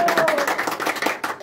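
Hand clapping at a family birthday party, a short burst of quick claps from a small group, with voices and a brief whistle-like tone in the first half.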